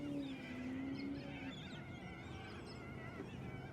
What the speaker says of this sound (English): We've got a flock of corellas just off to one side, and they shout at each other as they go by.